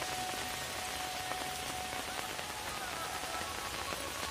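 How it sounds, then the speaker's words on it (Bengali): Heavy monsoon rain pours during flooding near the Pahumara river in Barpeta, Assam, making a dense, steady patter that stays close and constant without a break. "দেখেন পুরা বৃষ্টি, প্রচুর বৃষ্টি হইতাছে।"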